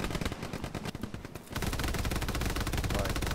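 Sustained bursts of enemy machine gun fire in the World War II shooter Hell Let Loose, loud and close, with rapid rattling shots that grow denser and heavier partway through.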